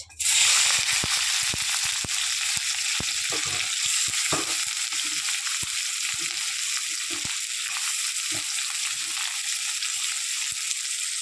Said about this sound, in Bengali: গরম তেলে আমি দিয়ে দিব হচ্ছে পেঁয়াজ।